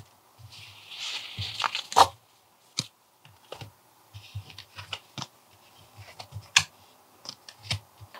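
Tarot cards shuffled and drawn at close range, giving irregular papery slides, flicks and sharp snaps with pauses between them, and no one speaking.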